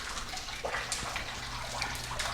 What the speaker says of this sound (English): the coolest part of the foyer is actually this waterfall right